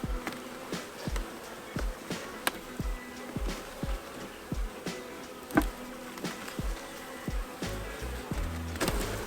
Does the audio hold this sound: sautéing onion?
no